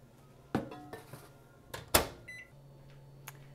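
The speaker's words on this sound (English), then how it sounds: "So that can go in the microwave." Microwave oven heating a bowl of marshmallows and water: a couple of loud clatters as the bowl goes in and the door shuts, short keypad beeps, then a low steady running hum.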